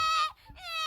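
A young child cries in two short, high, wavering wails separated by a brief catch of breath, close and loud.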